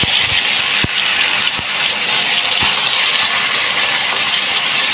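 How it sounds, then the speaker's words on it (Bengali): Hilsa fish pieces fry in a pan with a loud, dense, continuous hiss of spitting oil close up, broken by a few sharp clicks and taps, with no voices. "আস্তে আস্তে সবগুলো ভেজে নেব তো মাছগুলো"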